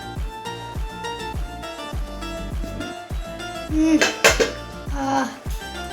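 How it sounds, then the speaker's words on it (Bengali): A hot metal lid comes off a pot of freshly cooked khichuri, with a run of close metallic clanks and clinks, then a brighter clatter near the end. "ঢাকনাটা খুলি কেমন হয়েছে।"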